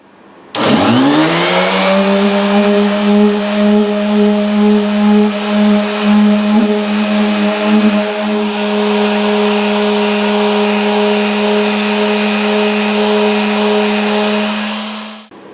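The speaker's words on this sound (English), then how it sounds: "So that's our top all sanded down," An electric sander on a Yamaha G55A guitar's spruce top spins up with a rising whine, then holds a steady loud motor drone with faint scraping texture for about fourteen seconds before stopping.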